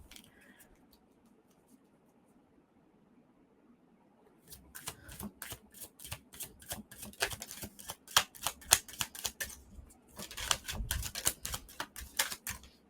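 Tarot cards being shuffled by hand after a few quiet seconds, producing rapid crisp riffling bursts that come in repeated waves, close and fairly loud.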